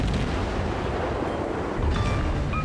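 Warship guns firing in a close-range naval battle in World of Warships, a continuous heavy rumble of blasts and booming artillery mixed with a roaring wash like wind and surf, loud and dense throughout.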